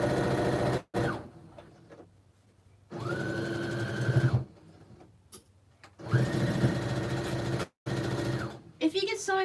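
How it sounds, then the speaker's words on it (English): A home sewing machine stitches a reversible tote bag in three separate runs of steady, fast whirring, close and loud, with short pauses between them and someone talking during the quiet gaps. "because I sew mine with the sewing machine"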